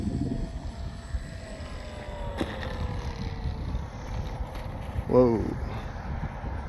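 A Dynam ME BF-109 RC model airplane drones steadily overhead, its pitch sliding slowly as it passes, with a voice briefly exclaiming partway through.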